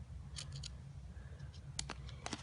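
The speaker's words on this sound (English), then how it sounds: "I'm going to give it a nice cut" Scissors snipping through ribbon while a shaker card is made: a few quiet, crisp cuts in two small bursts over a low steady hum, close and soft.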